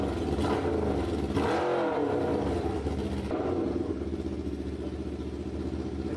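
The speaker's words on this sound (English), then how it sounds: "After only 3 hours to totally rebuild the engine, the beast roars again." A freshly rebuilt Norton motorcycle engine roars loudly and steadily up close, with a rising rev swell partway through before settling back into a sustained throaty run.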